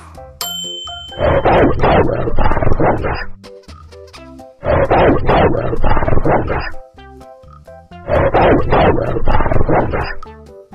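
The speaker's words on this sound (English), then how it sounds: "Wolf." A wolf howls three times in long, sustained, loud calls, each lasting about two seconds, with short pauses between them and no talk over the sound.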